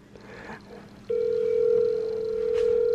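A mobile phone placing an outgoing call: a brief faint dial tone, then a loud, steady ringback tone that holds for about two seconds and stays clear of any talk.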